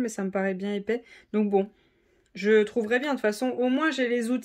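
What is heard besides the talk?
No everyday noises stand out.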